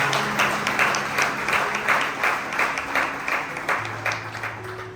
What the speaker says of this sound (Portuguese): você pode aplaudir e glorificar o nome do Senhor esta noite